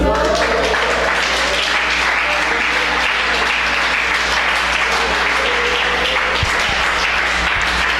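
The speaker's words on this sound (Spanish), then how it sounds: "Denle un aplauso y alábelo." A church congregation applauds during a Spanish-language sermon, loud sustained clapping filling the room steadily for several seconds, with faint voices mixed in.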